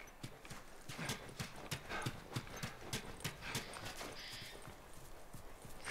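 Horse hooves clip-clop steadily in The Last of Us video game, a quick even rhythm of sharp knocks at moderate distance with no talk over them.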